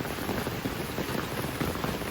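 Steady rain pours down during a storm in a rural village, a dense, even hiss of drops striking surfaces with no breaks and no voices.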